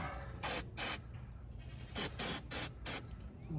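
Can of starting fluid sprayed into the engine of a 1983 Chevy Malibu wagon that sat for over a decade, six short sharp hissing bursts, two close together early and four in a quicker run later, over a low background rumble.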